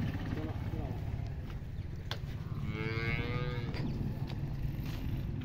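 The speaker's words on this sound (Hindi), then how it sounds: "ला दोस्तों गाय एक लोड हो गई है, दूसरी भी गाय लोड करवा के तो वीडियो सेंड करांगे।" A Jersey-Sahiwal cross cow moos loudly once while being loaded for transport, the long low call rising over a steady rumble of background noise and faint voices.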